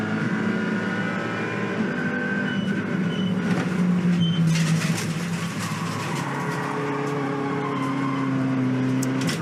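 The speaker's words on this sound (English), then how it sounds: "In that last phase of it, Matt, he flattened the wheel, the throttle rather, to get those front wheels spinning" A TCR touring race car on a circuit, accelerating hard under full throttle with its front wheels spinning after a slide; the engine roars loud and close, sustained and steady throughout, with no talk.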